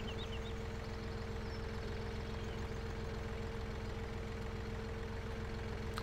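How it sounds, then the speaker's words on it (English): Compact tractor engine labouring under a half-full loader bucket of sand in Farming Simulator 17, a steady low drone with a constant hum running throughout, fairly loud and unbroken. "the tractor is struggling again"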